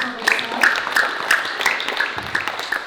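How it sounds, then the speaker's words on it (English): A sixth-grade class applauds a student named Rob during a school history presentation, a short burst of fairly close clapping from a small group with a few sharp individual claps standing out. "Let's give Rob a big round of applause."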